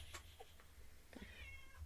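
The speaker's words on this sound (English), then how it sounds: "Say hi, Little Cat." A cat gives a few faint, short meows at close range over a low background hum, with no talking.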